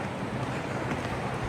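Conneaut Creek running fast after rain on a cold day, a dense, steady rushing of water close by, filling the whole moment with no voices.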